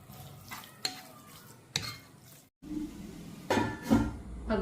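Water poured into a hot, wide, shallow pan sets off a brief hiss and sizzle, with stirring and the scrape of utensils against the metal, close and moderately loud. No one speaks.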